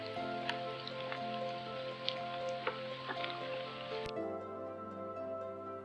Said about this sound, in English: I like rainy shots like this too. I think the sound is very comforting.